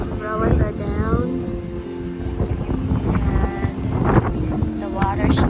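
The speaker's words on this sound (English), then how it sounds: "It's so windy. Look. Umbrellas are down." Strong wind by a hotel pool area in Kona, Hawaii, where umbrellas are down, buffets the microphone with a steady loud roar, and faint voices are heard underneath.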